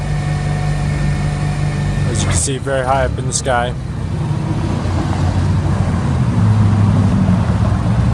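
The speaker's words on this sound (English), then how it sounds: "It's running the Toyota LP gas engine." A 2013 Toyota 8FGU25 pneumatic-tire forklift with an LP gas engine idles in a steady, close mechanical drone while someone talks briefly over it.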